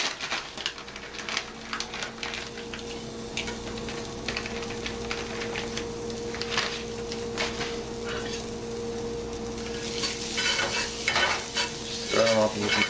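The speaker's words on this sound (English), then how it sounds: "Stir them up and you can smell they're becoming fragrant." Sichuan peppercorns and dried chilies stirred in hot oil in a pan, giving a steady sizzle and frying crackle with scraping stir strokes throughout, fairly close and even in level, no voices.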